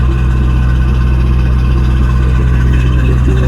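Generator running at a house build site, a steady loud low engine drone with a muffled exhaust tone like a car muffler, constant and close with no talk.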